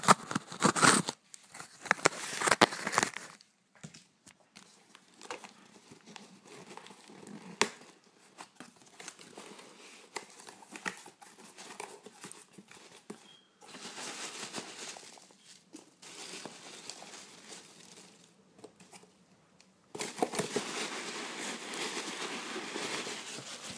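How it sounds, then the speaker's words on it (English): A tarantula shipping package is cut open by hand, with crinkling and tearing of plastic and paper packaging in bursts at the start, middle and end, and quieter rustling between. "Let's cut it open."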